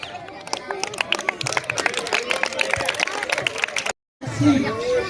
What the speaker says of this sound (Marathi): हे टाळ्या वाजवा ना झालं भाषण संपलं